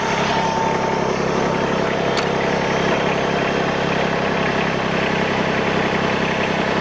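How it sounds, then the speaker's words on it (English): A New Holland Workmaster 25S tractor engine rumbles steadily and loudly at idle without letup, a dense, even mechanical drone close by. "and then you just start the tractor"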